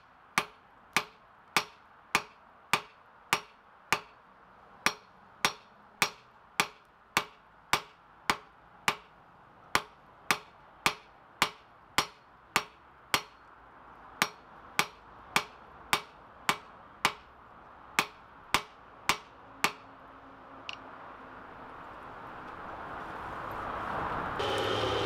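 Hammer blows on hot metal while forging, drawing the stock down to about a quarter inch thick: roughly thirty sharp, evenly spaced ringing strikes in a steady rhythm, close and loud, ending with a quieter stretch of background noise.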